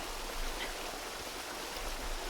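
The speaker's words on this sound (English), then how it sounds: "So there actually aren't very many waterfalls that are small like this one." Small waterfall in the video game Breath of the Wild, a steady broadband rush of falling water, fairly quiet and continuous with no voices over it.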